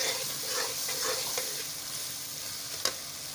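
Masala frying with paneer in a pan for Mughlai shahi dal, a soft continuous sizzle with light stirring scrapes and one sharp clink near the end, close by with no talk.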